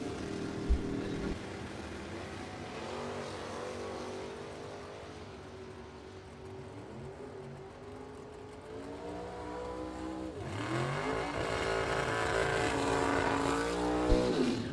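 A Chevrolet Corvette and a Camaro at a bracket drag race, heard as engines droning from a distance, then rising in a loud revving, accelerating roar near the end.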